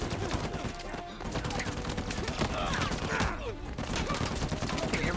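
Gunfire in the video game Uncharted 4: dense, continuous bursts of automatic shots and clattering impacts, loud and busy throughout, with a voice talking underneath.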